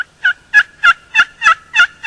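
A turkey gobbles in a fast, evenly spaced series of seven loud bursts, close by, with nothing else audible.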